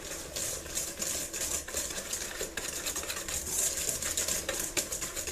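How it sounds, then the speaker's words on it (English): Eggs whisked into sugar in a bowl for pumpkin bread, a steady busy scraping and clinking of the whisk against the bowl, close and continuous with no talk. "So I'm going to go ahead and whisk these eggs into my sugar"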